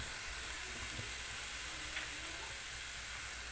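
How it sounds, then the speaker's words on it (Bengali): Young bottle gourd, cut into small pieces and already giving off some water, frying in a pan: a steady, soft hiss and sizzle that stays even throughout, quiet and close with no voices. "তো লাউটাকে এবারে আমি একটুখানি ভেজে নেব।"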